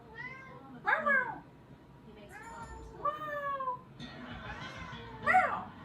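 A kitten meows several times in rising, wavering cries, close by and fairly loud, with soft background noise between calls.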